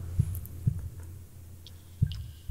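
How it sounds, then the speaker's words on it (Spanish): Muffled beating heart, a low thudding heartbeat effect: three deep double thumps spaced unevenly, dull and close, over a soft low hum with no voices. "durante muchos minutos el corazón siguió latiendo con un sonido ahogado"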